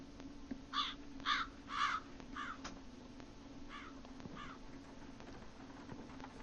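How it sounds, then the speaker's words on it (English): Crows caw outside in the video game Dead Secret, with two quick bursts of several harsh caws followed by a softer, more distant pair over a quiet hum. "Some crows out there."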